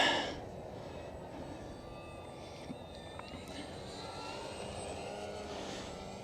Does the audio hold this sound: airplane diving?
yes